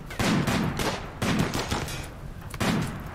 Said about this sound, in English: Oh, there goes the auto turrets.